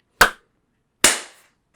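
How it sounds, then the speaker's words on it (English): Two people clap in unison: two sharp, loud claps about a second apart, each a single crisp hit as hands strike together, with silence between. "Clapping right in time as if you were trained as a cheerleader"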